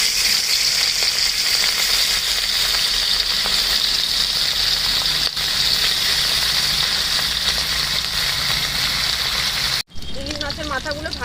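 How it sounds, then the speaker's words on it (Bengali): Halved hilsa fish heads rubbed with salt and turmeric frying in mustard oil, a loud, continuous close sizzle and crackle that holds steady, briefly cut off near the end before a softer clatter resumes. "ইলিশ মাছের মাথাটা ভেজে নেব।"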